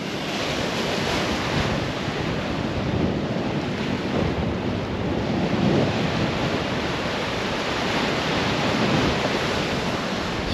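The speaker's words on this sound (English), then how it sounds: "It's a bit windy," Wind and ocean waves on the Western Australian coast near Augusta, a steady, loud broadband roar of surf and gusting wind across the microphone with no voices.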